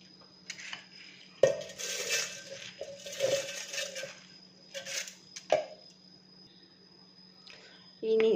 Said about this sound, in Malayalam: ഇതൊരു മിക്സി ജാറിലേക്ക് ഇട്ട് കൊടുക്കാം